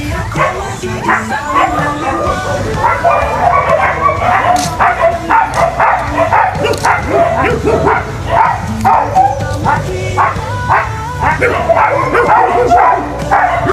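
Many dogs at a stray animal shelter bark, yip and whimper continuously, close and loud, with a person talking over the chorus.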